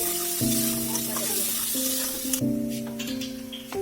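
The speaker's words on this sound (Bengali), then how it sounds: "আমাদের পেঁয়াজটা লাল লাল করে ভাজা হয়ে গেছে।" Onions with a little salt frying reddish-brown in a pan, giving a soft, even sizzle that runs beneath background music throughout.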